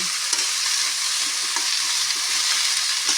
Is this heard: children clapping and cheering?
no